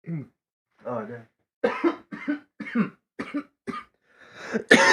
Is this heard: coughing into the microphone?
yes